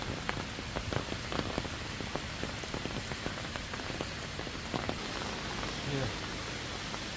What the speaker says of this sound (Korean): 비 소리 듣고 가